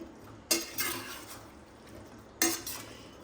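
A spoon stirs yogurt into pulao rice in a cooker, giving two distinct clinking scrapes against the metal vessel about two seconds apart, with quiet gaps between them.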